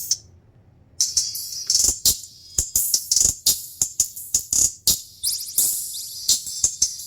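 A DS18 car audio tweeter blasts piercing high-pitched bursts, stuttering on and off in quick irregular pulses, loud and close.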